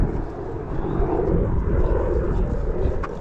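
A low, rumbling helicopter rotor drone hangs overhead, steady and broad, with wind noise mixed in throughout, above the Hawes mountain bike trails.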